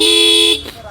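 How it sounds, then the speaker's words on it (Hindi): The dual horn on a TVS Apache RTR 160 2V motorcycle sounds one loud, steady half-second toot up close, its two tones clashing into a jangly blare before cutting off abruptly. "दोनों हॉर्न आपस में टकरा रहा है तो एक झनकार वाला आवाज़ निकाल रहा है"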